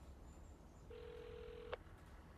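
An outgoing phone call to a New York number rings out as a single faint electronic ringback tone lasting almost a second, set against quiet room noise.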